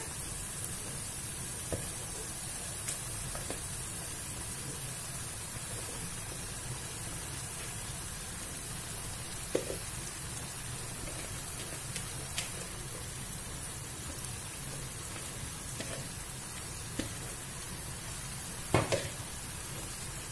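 Browned spiced meat with fennel laid on top sizzles steadily in a tajine, a soft continuous frying hiss broken by a few small clicks and taps, with no talking.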